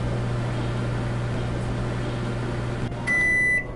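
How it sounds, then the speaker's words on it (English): A microwave oven running in the Job Simulator video game hums steadily with a low drone, then a bright electronic beep rings out near the end. "Close the door and let me get a shot of the microwave running."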